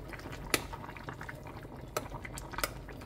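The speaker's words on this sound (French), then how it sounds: "Maintenant, je vais ajouter les brocolis. Et je vais laisser cuire à 5 minutes" Broccoli blanching in a pot of boiling water, a steady low bubbling wash with a few sharper drips and splashes standing out, heard close with no talking.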